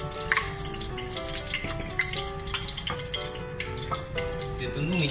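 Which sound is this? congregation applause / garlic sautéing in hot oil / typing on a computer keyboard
garlic sautéing in hot oil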